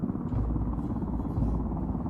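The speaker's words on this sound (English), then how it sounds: "At least it comes with a chopper." A helicopter in the Ghost Recon Wildlands video game gives off a steady, low, droning rotor rumble that holds even and continuous throughout.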